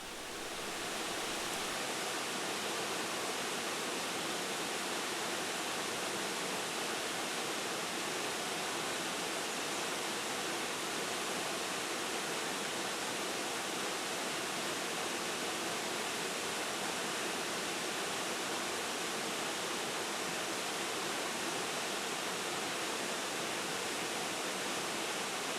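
A waterfall pours over mossy rock in a Slovenian wildlife setting, giving a dense, steady broadband rush that stays constant and fairly close throughout, with no voices or other sounds.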